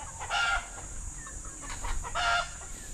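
Chickens on a farmyard give two short bursts of clucking and calling, fairly close, with quiet background hum between them and no talk.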